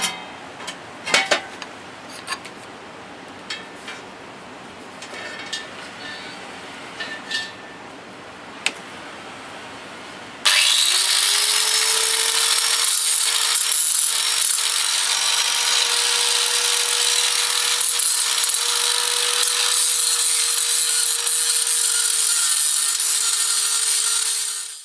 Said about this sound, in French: je vais passer un petit coup de disqueuse là-dessus